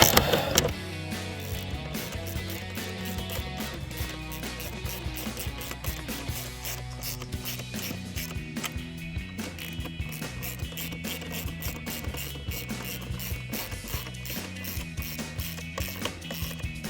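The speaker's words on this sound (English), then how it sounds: "Get them snug with the wrench." Ratchet wrench tightening the mounting nuts on a 2015-2018 Ford F-150 powered heated side mirror, a steady run of quick clicking pawl strokes close up, continuous throughout.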